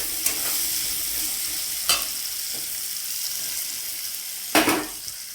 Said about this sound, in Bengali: তেলের মধ্যে আমি এবার পেঁয়াজ দিয়ে দিচ্ছি, পেঁয়াজ আর আদাটা দিয়ে দিলাম